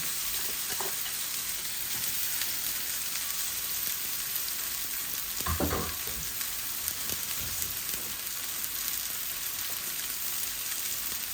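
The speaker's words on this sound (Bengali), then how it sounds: "এখন ভেজে নেই এটাকে" Dried fish seasoned with salt and turmeric fries in a pan with a constant, fairly loud crackling sizzle, and one brief stir or scrape partway through.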